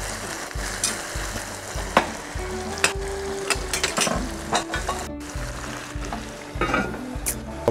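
Tomatoes sizzle as they sauté in a pan for ginisang upo, a steady frying hiss broken by repeated scrapes and clinks of a utensil stirring against the pan.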